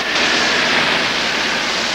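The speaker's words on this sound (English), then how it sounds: "110 horsepower rotary engine at the top speed of 120 miles an hour" A Fokker DR-1 triplane with a 110-horsepower rotary engine flying past, a steady loud broadband engine roar filling the whole stretch without pauses.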